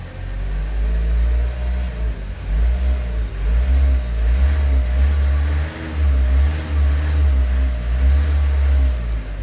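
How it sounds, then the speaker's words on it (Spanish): A stationary Opel Movano van engine runs up to a loud, steady rev after an oil and cartridge filter change, holding high with slight dips and surges as the throttle is held. "Vamos a acelerar un poquito, poca cosa."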